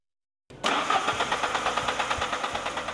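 A car engine cranks with a rapid, even rhythmic chug from the starter after silence, loud and close, with no voices.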